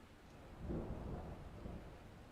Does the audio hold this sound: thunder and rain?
yes